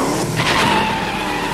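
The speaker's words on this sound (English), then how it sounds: "Hear that? It's his car." A car approaches with its tires skidding, a loud screeching whine over a steady rumbling roar that holds for more than a second.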